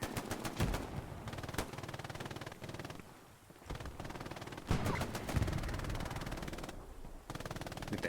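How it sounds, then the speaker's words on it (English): Machine gun fire in the World War II shooter Hell Let Loose: repeated short, sharp bursts of automatic fire at moderate distance, broken by brief gaps, over a low background of battlefield noise. "Bad Up taking some shots at him with his MG"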